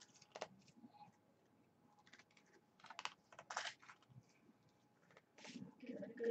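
Oracle and tarot cards are shuffled up close, a quiet run of quick, dry flicks and taps that come in irregular bursts and build into a brisker riffle near the end.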